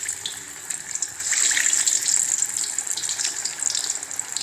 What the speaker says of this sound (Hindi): ये ऑयल गरम कर लिया था और हम इसमें ये डालेंगे